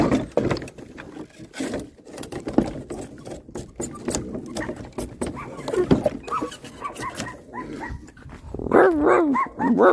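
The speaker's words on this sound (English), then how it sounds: "Don't bark at me like that." A dog barks and whimpers repeatedly in a home, loud and close, the yelps mixing with rustling and some talk throughout, rising to higher whiny cries near the end.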